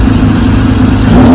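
A pickup truck with a 2JZ engine swap idles smoothly and steadily, a loud, close, even engine drone with a slight rise in pitch near the end and nobody talking.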